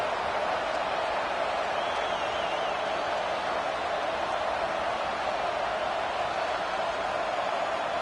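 A stadium crowd roars continuously at a college football game, loud and steady throughout, a dense wall of cheering noise with no break.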